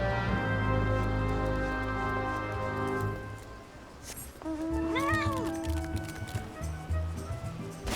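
A cat meows in Final Fantasy XIV at the Costa del Sol, a rising and falling cry heard midway over in-game music and ambient sound.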